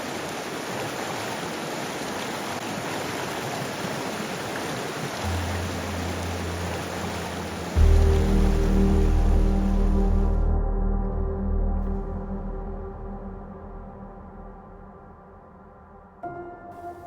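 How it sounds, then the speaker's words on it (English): Water runs steadily over stone, a broad close rushing wash that swells louder partway through, then gives way to a lower rumbling flow with a faint hum. "The sound of running water amplifies."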